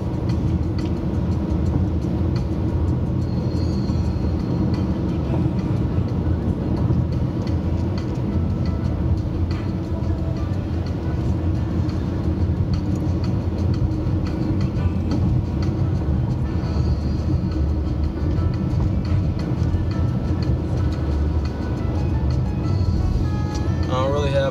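A car on a morning drive along Route 9 in Delaware hums steadily with constant road and engine noise from inside the cabin, unbroken for the whole stretch.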